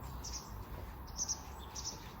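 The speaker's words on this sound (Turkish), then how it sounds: "ben susayım kuşlar konuşsun en iyisi." Small garden birds chirp in bright, short bursts, several distinct calls spaced over a couple of seconds against a soft, quiet outdoor background.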